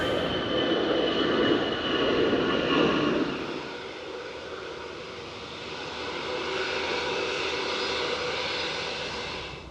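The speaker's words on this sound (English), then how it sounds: "It's another EasyJet." An EasyJet passenger jet passes overhead on its landing approach near Gatwick, its engine roar loud at first and then easing into a steady, more distant rumbling whine that lingers for several seconds, with no talk.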